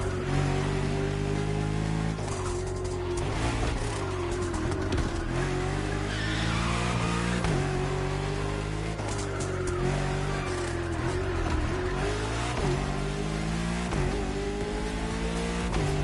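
Aquilon luxury hypercar from a new French maker, in The Crew Motorfest racing game, revs loudly and continuously, its engine note climbing and dropping through gear changes, with faint tire squeal mixed in.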